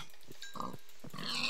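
Pigs in the Minecraft video game give several short, quiet grunting oinks in an uneven rhythm, separated by brief pauses, heard alone without talk.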